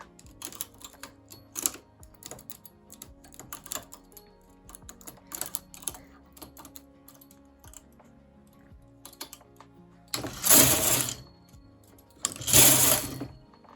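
Knitting machine carriage swept across rows while working cables, giving two loud rasping whooshes near the end, after quieter clicks and ticks of needles and tools being handled.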